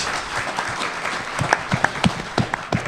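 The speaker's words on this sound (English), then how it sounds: "Yeah, go on, clap that." An audience at a comic convention panel gives a short burst of applause, the claps scattered and moderately loud, picking up slightly toward the end.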